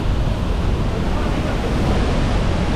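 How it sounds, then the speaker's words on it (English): The biggest and longest waterfall in Iraq, near Erbil in Kurdistan, gives off a loud, steady, broadband roar of falling water that continues unbroken throughout. "this one actually is the biggest and the longest waterfall in entire Iraq"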